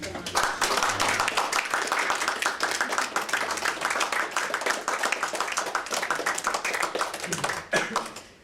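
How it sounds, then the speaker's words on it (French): An audience applauds the poet Stéphane at a Burgundy poetry gathering, a dense, steady wall of clapping hands that runs loud for several seconds before tapering off near the end. "Je vous demande d'applaudir Stéphane."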